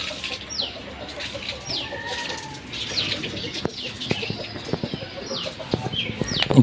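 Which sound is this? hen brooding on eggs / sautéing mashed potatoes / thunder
hen brooding on eggs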